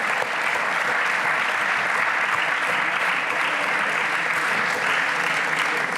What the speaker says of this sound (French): Tout le monde applaudit, sauf ma femme